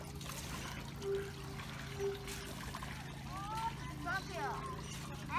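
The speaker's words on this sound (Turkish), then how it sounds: "Şöyle çevirdikçe buradan sular akıyor" Water trickles and splashes from a hand-cranked tap at Sazova Park in Eskişehir, a soft continuous flow under a low outdoor hum, with distant voices and a few bird chirps.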